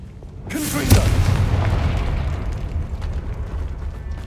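The Confringo blasting spell in Hogwarts Legacy, a sharp magical whoosh erupting into a single deep, loud explosion that rumbles and decays over several seconds.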